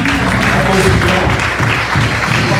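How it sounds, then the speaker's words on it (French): A worship congregation at a French-language church gathering applauds the Lord, a loud continuous wash of clapping from a large crowd with faint voices mixed in. "Est-ce qu'on peut applaudir le Seigneur?"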